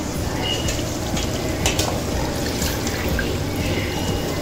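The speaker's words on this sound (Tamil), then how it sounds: "இதில் 1/2 பவுல் அரிசிக்கு நான் 2/2 பவுல் தண்ணி ஊற்ற போகிறேன்." Water pours from close by into a bowl of jeera samba rice being prepared for quail biryani, a steady, continuous splashing stream with no break for the whole moment.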